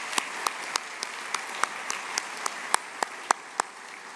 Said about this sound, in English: a round of applause for all of our artists